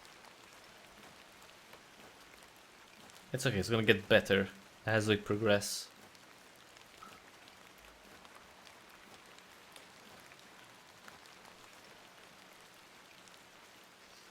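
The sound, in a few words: rain in the video game Incantamentum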